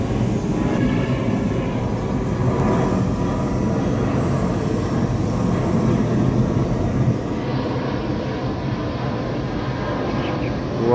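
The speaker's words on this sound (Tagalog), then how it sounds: "Kuha pa yung eroplano" Airplane flying over a cemetery in Davao city at dusk: a steady, distant engine roar that drones continuously throughout, fairly faint and unchanging.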